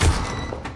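Incendio fire spell cast in Hogwarts Legacy on PS5: a loud, close burst with a heavy thud at the onset that fades over under a second.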